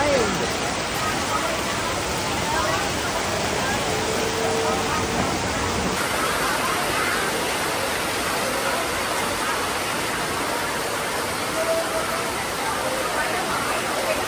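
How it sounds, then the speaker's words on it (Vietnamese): Heavy rain pours down in Tra Vinh, a dense, loud, continuous hiss of water on surfaces that fills the scene without pause. "Và đây là cơn mưa ở Trà Vinh."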